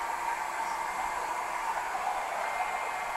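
A hair blower runs steadily during a home haircut for a nephew, a constant broadband airy whoosh at moderate level with no breaks or talk.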